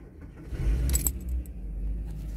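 Keys jangle briefly and close by in the ignition of a Volkswagen Golf 4 V5 with standard exhaust. A low engine rumble runs underneath.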